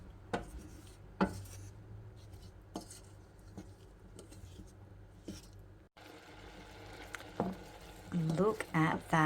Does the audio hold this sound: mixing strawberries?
yes